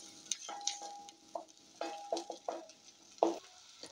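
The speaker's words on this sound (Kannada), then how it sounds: "ಹಾಕ್ಬಿಟ್ಟು ಈರುಳ್ಳಿ ಬಣ್ಣ ಚೇಂಜ್ ಆಗೋ ತನಕ ಫ್ರೈ ಮಾಡೋಣ" Chopped onion and garlic frying for egg fried rice, with scattered stirring scrapes and soft sizzling bursts in an irregular rhythm, close and moderately quiet, no voices.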